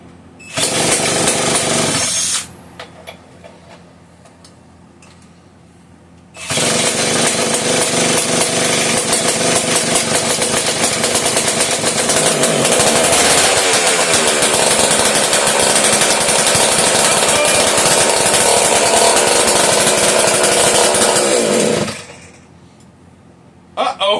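A Homelite 150 chainsaw engine, a small vintage two-stroke, snarls loudly in two bursts: a short run near the start, a pause with quieter sounds, then a long sustained buzzing run of about fifteen seconds before it cuts off.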